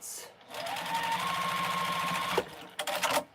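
A sewing machine stitches steadily around the edge of a quilt with foundation paper piecing, a continuous mechanical whir with a faint whine, then stops and gives way to brief paper rustling.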